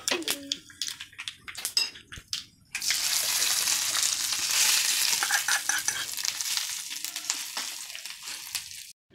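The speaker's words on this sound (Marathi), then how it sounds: "डाळी छान तळल्या गेल्या आहेत, वासही खूप सुंदर येत आहे।" Lentils frying in a pan for bottle gourd chutney make a loud, steady sizzle that starts suddenly and holds for several seconds, after a stretch of scattered clinks and stirring.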